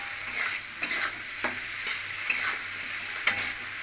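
Spices including chilli and turmeric stir-fried in a pan for a shola kochu murighonto, with steady sizzling broken by several sharp scrapes of a spatula at uneven intervals, close and moderately loud, no talking.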